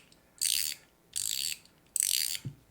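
GAO Studio Cashew mechanical fidget toy ratcheting loudly, three bursts of rapid, crisp metallic clicking close by with short pauses between, followed by a faint knock.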